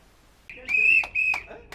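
Two sharp protest whistle blasts from striking staff in quick succession, shrill and fairly close, over a quiet background.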